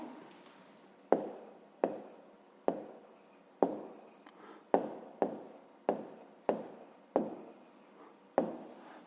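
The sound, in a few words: pencil writing on paper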